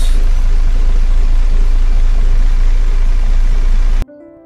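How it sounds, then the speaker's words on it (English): A bus engine runs as a loud, steady broadband roar that fills the recording without pause, then cuts off abruptly near the end; no distinct air-brake hiss stands out. "B for bus."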